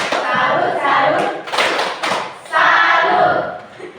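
A group of people clapping together in a rhythmic salute, dense bursts of handclaps rising and falling in waves, close and loud, with voices mixed in.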